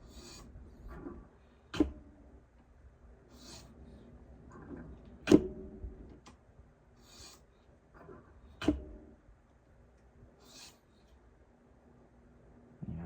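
A Spyderco kitchen knife is drawn across a whetstone in a steady series of soft rasping strokes, punctuated by a few sharp clicks as the blade is flipped, close and quiet with no talk.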